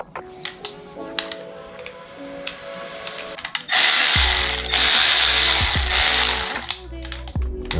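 A Milwaukee M12 cordless electric ratchet whirs loudly for about four seconds, preceded by quieter clicks and handling noise, with brief mechanical stops afterward.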